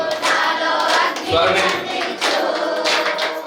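A church congregation at a fasting revival meeting claps hands in rhythm over loud singing voices, the claps steady and dense throughout the short stretch.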